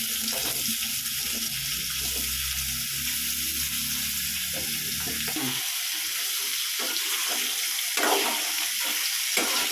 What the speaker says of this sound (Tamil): எண்ணெயில் போட்டு வறுக்க போகிறேன்.